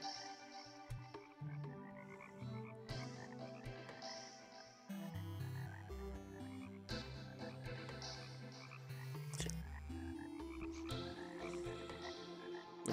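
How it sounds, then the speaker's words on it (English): Frogs croak repeatedly in the video game Terraria, a steady layered chorus of game croaks running throughout over dense, busy game music and effects, with no talking. "I'm hearing frogs, where?"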